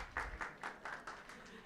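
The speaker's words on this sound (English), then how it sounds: "सबसे पहले खुद के लिए huge round of applause आप सबके लिए" A workshop audience on artificial intelligence and cyber security claps in a brief round of faint applause, with quick uneven claps and soft talk underneath.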